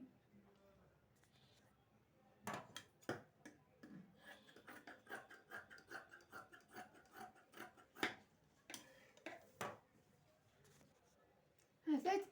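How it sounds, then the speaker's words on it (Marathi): Scissors cutting away leftover fabric while sewing a traditional parkar-polka, a series of soft, close snips and rustles in an uneven rhythm, with speech over parts. "आता उरलेला कपडा कापून काढायचा आहे"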